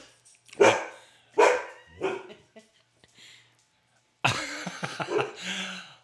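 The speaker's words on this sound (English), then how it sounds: "Little dog interruption, but that's all right." A small dog barks several times in sharp, spaced yips, followed by a burst of louder barking mixed with a person's voice.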